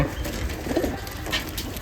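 Soft, low Giribaj pigeon coos sound up close from a small cage, a short murmuring call rising briefly above a steady background hum.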